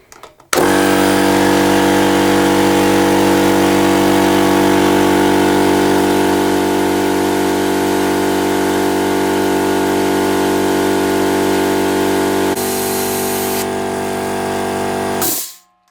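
SGS Engineering 100L air compressor running continuously to warm up, a loud steady motor-and-pump drone that starts abruptly, holds for about fifteen seconds with a slight drop partway, then cuts off.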